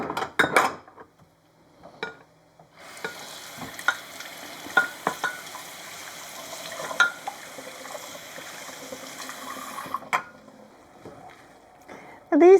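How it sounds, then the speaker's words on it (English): Beans cooking and being mashed in a frying pan for a thick dip sauce: steady sizzling runs throughout, with repeated soft scraping and stirring knocks from a utensil against the pan, fairly close. Brief talk sounds only at the start. "I want to mash up those beans, at least a few of them, so it makes a nice thick sauce"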